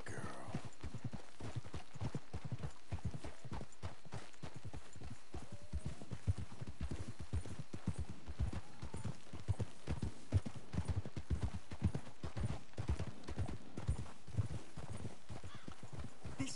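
Horses' hooves clip-clop steadily on the ground in Red Dead Redemption 2, a dense rhythmic trot of several animals sustained throughout, close and clear with no talk.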